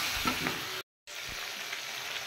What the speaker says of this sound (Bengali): এবার আমি ফ্রাই করে নেব।